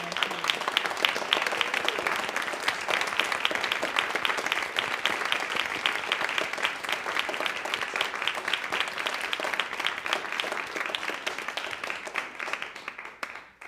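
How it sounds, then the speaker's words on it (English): Sustained audience applause for roundtable participants at a dance panel, a dense steady wash of many hands clapping that holds for over ten seconds before tapering off at the end. "So a big round of applause for our roundtable participants."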